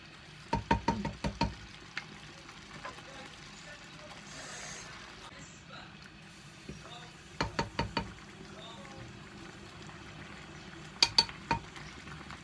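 Rice stirred in a claypot, Hong Kong style: a few clusters of sharp utensil knocks and scrapes against the pot ring out close by, separated by quiet stretches with a faint low sizzle.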